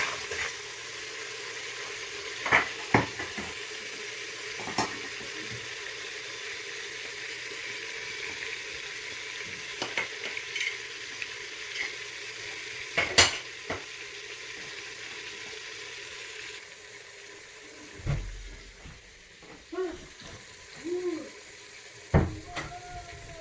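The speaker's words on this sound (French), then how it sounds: "Vous voyez, on laisse les oignons bien dorés." Onions fry until golden in a pot for Senegalese thiebou dieun, a soft, low sizzle broken by sharp clinks and scrapes of a spoon against the pot.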